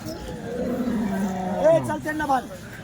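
Cattle, calves and bullocks at the Chalisgaon livestock market in Maharashtra give drawn-out lowing calls amid market chatter, with people talking nearby.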